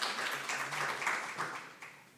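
Audience applause for a visiting professor at an academic lecture, a dense steady patter of many hands clapping at moderate distance, sustained evenly before tapering slightly toward the end.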